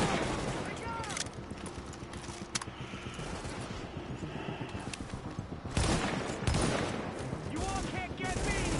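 Dense automatic gunfire bursts from the shooter game Tom Clancy's The Division, loud and continuous with short gaps, along with mechanical clicks and a player talking over the shooting.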